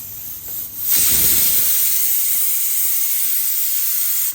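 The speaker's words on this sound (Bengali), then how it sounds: "ঝোল বলক উঠে গেছে, এবার মাছ দিয়ে দেবো।" Hilsa fish slid into a pot of boiling eggplant curry broth spiced with cumin and garlic paste gives a sudden loud, steady hiss and sizzle that holds strongly without pause after a brief quieter start.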